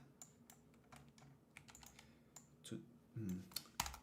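Typing on a new computer keyboard, with irregular soft key clicks and a few louder taps near the end, close and quiet with no talk.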